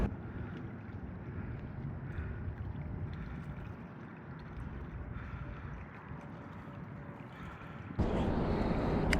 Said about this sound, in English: It is windy here, so that's what we're fishing against